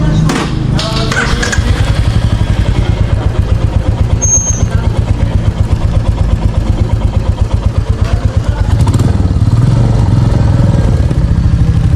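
A motorcycle on a long-distance bike tour from Kolkata toward Siliguri rides steadily with a loud, close, continuous engine thrum and rhythmic low pulsing, with wind and road rumble and no clear talk over it.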